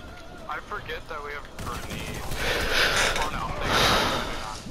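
Rapid bursts of video game gunfire crackle loud and close through the second half, after a short stretch of someone talking over quieter game sound.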